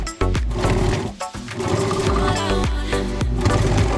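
A sewing machine stitches a denim jeans hem with a reverse stitch, loud and close, its rapid mechanical whir running in short bursts with several abrupt stops and restarts.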